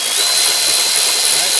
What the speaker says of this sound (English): We're gonna use the Milwaukee long reach high torque to get in there and get it loosened.